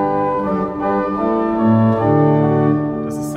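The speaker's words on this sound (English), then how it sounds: "we are starting with the great and the open diapason" Open diapason stop on the great manual of a pipe organ, a steady sustained chord with a shifting inner line, full and close, no voices, a brief hiss of air near the end.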